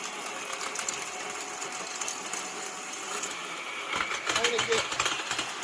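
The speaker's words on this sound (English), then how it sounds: "I just want to till this in." A garden tiller churns soil in a raised bed, a steady close mechanical drone throughout that grows rougher and louder toward the end as the tines hit the dirt.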